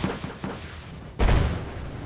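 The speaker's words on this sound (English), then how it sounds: "Leopards are taking fire from the T-62s now." Tank gunfire between T-62s and Leopards in Wargame Red Dragon: a few faint distant shots, then one loud, heavy cannon blast with a lingering rumble.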